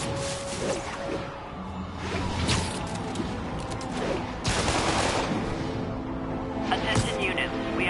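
Video game drive-by shooting: bursts of gunfire crackle amid street noise and passing vehicles, with a voice speaking over the action.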